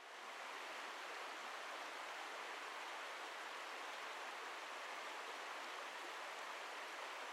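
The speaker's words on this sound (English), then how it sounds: "A river water, a running river." Running river water in Colorado, a steady, close rushing wash of flowing water that holds at an even level throughout with no voices.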